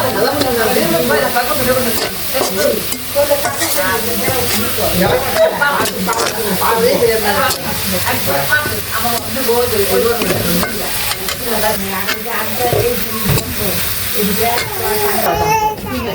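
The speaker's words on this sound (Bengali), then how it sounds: "পেঁয়াজটা ভাইজা দিলে ভালো হয়" Onions sizzle and crackle as they fry into beresta in a home kitchen, a steady loud hiss with constant stirring and clatter throughout, and voices and household noise mixed in underneath.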